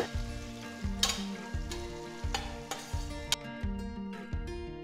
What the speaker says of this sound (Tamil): ஒரு மீடியம் சைஸ் வெங்காயம் மெலிசா நறுக்கினது போடுறேன். நல்ல கோல்டன் ப்ரௌன் கலருக்கு வதக்குங்க.